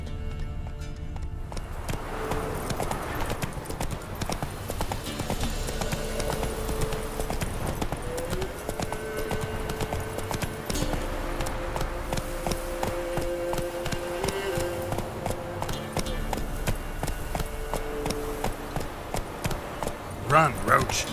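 Horse Roach galloping in The Witcher 3 video game, rapid steady hoofbeats running continuously under game music and ambience.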